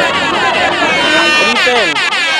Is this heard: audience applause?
no